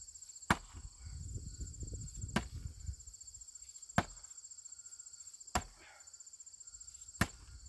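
A small axe strikes wood in five sharp, separate chops spaced a second or two apart, with crickets chirring steadily in the background and a low rumble under the first few blows.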